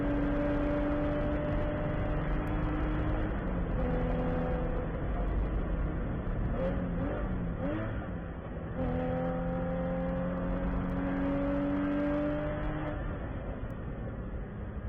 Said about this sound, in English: if you listen to this onboard, it definitely sounds to me like they've got some kind of vibration that they're dealing with here